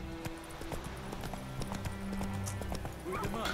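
Horse hooves clip-clopping in The Witcher 3: Wild Hunt, a steady trotting rhythm of sharp knocks over game music and ambience, with a voice also present.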